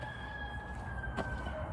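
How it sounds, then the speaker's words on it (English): A rooster crows somewhere outdoors, heard fairly far off and faint beneath steady background noise, with one brief sharp sound partway through. "I thought roosters only wake you up."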